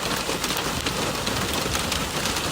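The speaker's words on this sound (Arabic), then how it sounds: "تغير حجم البرد، صار كبار." Large hail pours down during flooding south of Mecca, a dense, loud, continuous rattling hiss of impacts with no pauses.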